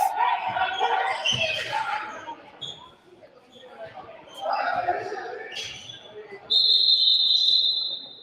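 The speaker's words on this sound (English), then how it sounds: "And we'll have a whistle." A referee's whistle blows sharply and loudly near the end of a college basketball game in a gym, following ball bounces and crowd noise while a commentator talks.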